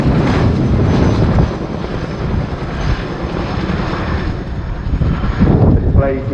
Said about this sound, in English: The display you see today really demonstrates how manoeuvrable this extremely large helicopter is.